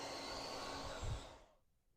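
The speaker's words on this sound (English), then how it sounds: "I've got both side pockets done and dried a bit with the hair dryer" A hair dryer blows steadily on freshly painted side pockets of a carved redhead drake gunning decoy, a loud continuous whoosh and whine that briefly swells before cutting off, leaving quiet.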